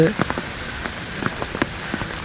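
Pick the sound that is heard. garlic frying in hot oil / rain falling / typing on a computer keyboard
rain falling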